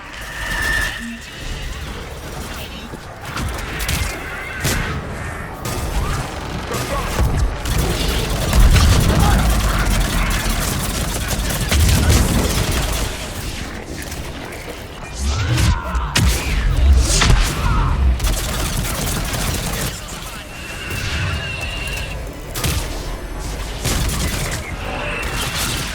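Missile explosions and rapid gunfire from a Mass Effect 3 battle on Thessia, a dense, loud barrage of booms and shots running continuously with voices talking over the combat.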